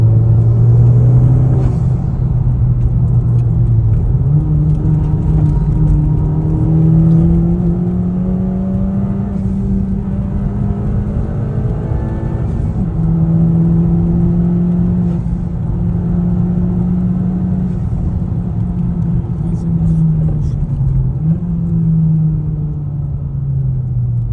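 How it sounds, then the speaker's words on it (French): A Honda Civic Type R FK2 drones loudly and steadily from inside, its engine note rising and falling with the throttle while the intake whooshes hard underneath, with no talking. "c'est l'admission comme ça qui souffle"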